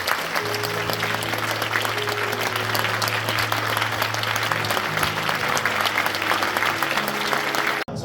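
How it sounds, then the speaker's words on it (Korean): Steady, loud applause from a church congregation at an ordination service fills the whole stretch, dense clapping without pause, with a low sustained tone underneath, cutting off abruptly at the end. "전달할 때 큰 박수로 축하하겠습니다."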